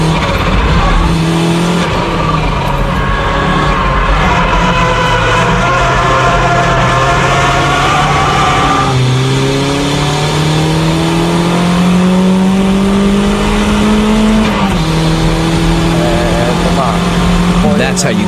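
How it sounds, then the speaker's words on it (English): A car drifting with understeer, brakes held on and countersteer applied early, its engine droning loudly and steadily throughout, pitch sliding and climbing with the revs, with tire noise underneath; a voice is heard faintly. "That's how you keep control and drift with understeer."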